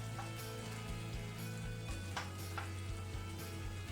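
Egg mixture poured into an oiled pan for tamagoyaki, a rolled Japanese omelette, sizzling in a steady, even hiss that lasts throughout with no talk over it.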